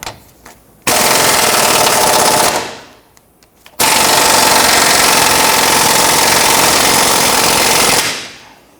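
A power tool loosens a 19mm control arm bolt on a 1992-1996 Toyota Camry in two loud, close bursts of rapid rattling hammering, the second one longer, separated by a brief pause.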